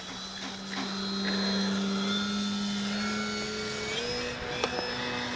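A Flex RV8 10E G2 electric RC airplane by FGFRC flies aerobatics, its motor whining steadily with pitch shifts as it maneuvers, fairly close and loud, with no talking.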